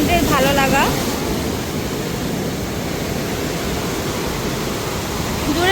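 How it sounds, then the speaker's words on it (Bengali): Sea waves wash over sandbags on Kuakata beach in a steady, broad roar of surf, with brief voices at the start and end. "তোমরা দেখতেই পাচ্ছ যে বালির বস্তার উপরে কত দূর পর্যন্ত জল চলে আসছে। এই হচ্ছে সমুদ্র"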